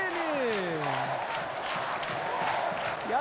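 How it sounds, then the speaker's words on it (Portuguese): Football crowd in a stadium roaring and cheering for two saves in a row by the Avaí goalkeeper Eduardo Martini. The crowd noise stays loud and steady throughout, with a whistle-like sliding tone near the start. "E a torcida vibra como se o Avaí tivesse feito um gol"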